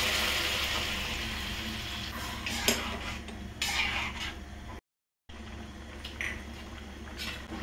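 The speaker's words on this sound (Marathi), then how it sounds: "काळे वाटाणे जे उकडून घेतले होते ते पाण्यासकट आपण फोडणीत घालूया" Boiled black peas poured with their cooking water into hot tempering in a pot, a close wet rush and bubbling hiss with scattered metal clinks, cut by a brief silent gap before the simmering resumes.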